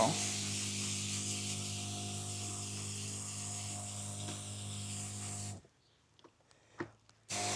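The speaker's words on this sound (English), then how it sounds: "if you twist this one to the left, gets a finer spray to it." A continuous fine mist from a backpack garden sprayer hisses steadily for several seconds, then cuts off, followed by a few faint clicks and a brief return of hissing.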